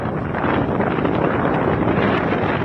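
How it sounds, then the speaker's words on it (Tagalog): Strong typhoon wind roars steadily and loudly throughout in Batanes, Philippines, a dense, gusting howl with buffeting against the microphone and no voices. "Rinig na rinig ang pagugupit ng malakas sa hangin"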